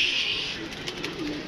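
Soft pigeon coos rise and fall in the background among a steady chirpy bird chatter, with no one speaking.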